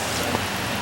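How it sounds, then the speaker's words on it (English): Steady rain on a rainy day makes a dense, even hiss with no breaks, close by and fairly loud, with no voices over it. "It's a rainy day."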